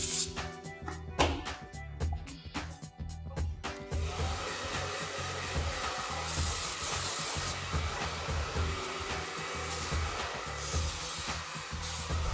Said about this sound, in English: At the root, I'm spraying dry.